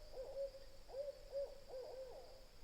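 An owl hoots repeatedly in a forest near a farm stay, a series of soft, evenly spaced hoots heard at a distance over a steady high hum of insects, with no talking.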